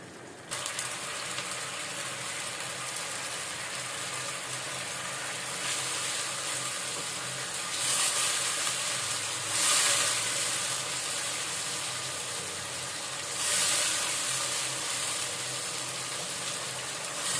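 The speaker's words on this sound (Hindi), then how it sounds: "इसे अच्छे से ब्राउन होने के बाद इसमें जो है चिकन डाल देंगे" Chicken frying with browned onions in a karahi pan, a loud continuous sizzling hiss that swells in several surges, with no talking.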